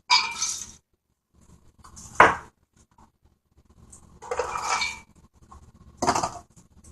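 Nuts poured into a container for making pesto, several separate bursts of clattering and rattling with quiet gaps between, close and clear.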